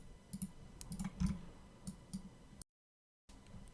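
Computer mouse clicking during an Unreal Engine tutorial, a few soft, close clicks scattered over a quiet background, broken by a short dropout.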